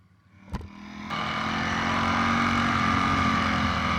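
A Ducati Streetfighter V4S motorcycle engine starts after a sharp click, then rises into a loud, steady, close idle with a rich rumbling drone, no speech.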